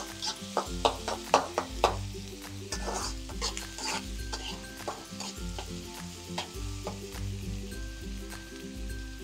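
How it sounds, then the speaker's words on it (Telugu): Onions fry in a pan for dhaba-style paneer masala, a soft sizzle under repeated spoon scrapes and taps against the pan, with a faint steady hum in the background. "ఇవి మంచిగా గోల్డెన్ కలర్లోకి వచ్చేదాకా వేయించుకోవాలి"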